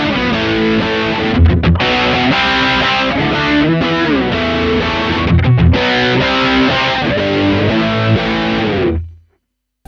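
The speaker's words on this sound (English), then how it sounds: "I'm on a bridge pickup, by the way, and I'm gonna play some power chords." Distorted electric guitar power chords on the bridge pickup through a Joyo amp's crunch channel ring out loud and steady, strummed in a driving rhythm for several seconds before cutting off abruptly at the end.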